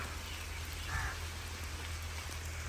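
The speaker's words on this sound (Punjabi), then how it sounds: "ਦੇਖ ਲਓ ਬਾਈ ਮੀਂਹ ਪੈਂਦਾ" Soft, steady rain patters continuously over village farm fields, quiet and even, with a low hum underneath and no voices.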